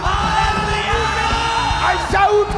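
An Easter celebration congregation at a church meeting shouts and whoops together in worship, a loud, sustained crowd roar with overlapping voices rising in a swell near the end.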